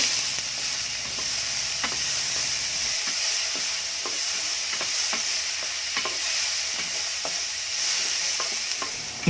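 Garlic, onion and tomato sauté in a pan with a steady close sizzle, while a utensil stirs and scrapes in repeated taps against the pan.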